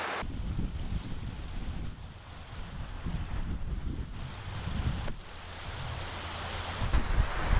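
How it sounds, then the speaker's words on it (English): Gusty wind buffets the microphone at a seaside campground in Canada, with waves washing in below, a continuous loud roar rising and falling in strength without any talking. "it's still gusting 20 miles per hour out there"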